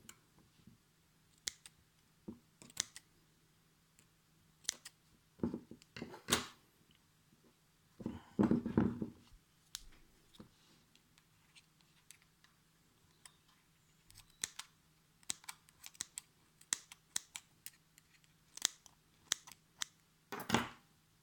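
Dull scissors snip coil wire while a squonk RDA vape atomizer is built, giving sparse, sharp clicks and cuts close up in a quiet room, with a brief rustling burst midway.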